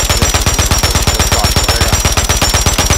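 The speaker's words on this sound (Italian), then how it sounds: "le mitragliatrici leggere, non è che eccellono per la precisione nei colpi sparati" An M60 light machine gun fires in Call of Duty MW23 as a loud, rapid, evenly spaced burst of sustained automatic gunfire that runs without a break throughout.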